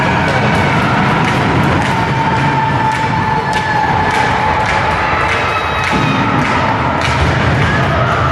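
Puck shot during an ice hockey game between the Snipers and Mavericks on a 5-on-3 power play, heard as a thud amid a loud, continuous arena crowd and rink noise, with several sharp knocks across the clip.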